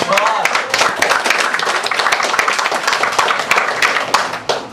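At an open mic poetry reading, an audience breaks into dense, loud, close applause. Fast clapping carries steadily throughout, with cheering voices mixed in.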